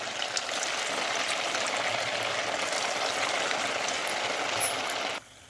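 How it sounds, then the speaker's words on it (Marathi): Round potato tikki shallow-frying in hot oil, a steady dense sizzle with faint bubbling crackle holding level throughout, then cutting off abruptly near the end. "त्याची गोल टिक्की बनवून घेतली आहे ती पण मी तळून घेते आहे"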